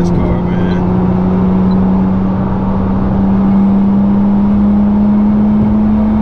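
A Nissan GT-R accelerates hard on the road, its engine a loud, steady droning roar with a sustained rising tone heard from inside the car, continuous and dense for the whole stretch.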